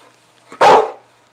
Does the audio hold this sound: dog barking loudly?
yes